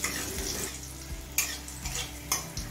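Radhuni and nigella seeds fry in hot oil with green chillies, giving a soft continuous sizzle broken by a few close stirring scrapes and light utensil knocks, with no talking.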